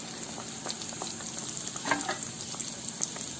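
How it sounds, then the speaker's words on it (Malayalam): Donut dough sizzles in hot oil, a steady soft crackle with occasional sharper pops close by, with no one speaking. "തിളച്ചു വന്നിരിക്കുന്ന എണ്ണയിലേക്ക് ഇതേപോലെ ഓരോന്നായി ഇട്ട് കൊടുക്കുക"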